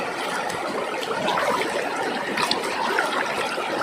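River water streams and trickles steadily while namo, a wild yam, is washed in a river at Lagonoy, Camarines Sur. The flow is close and continuous, with soft splashes and no speech.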